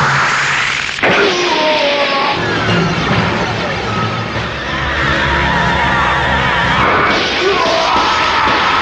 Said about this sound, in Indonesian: Setelah pedang Basun dapat dipatahkan dengan sabetan Twin Blocker Crush